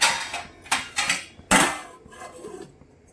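Metal lid clattering onto a cooking pot of mutton biryani, several sharp clanks and scrapes in quick succession, close and fairly loud in a kitchen.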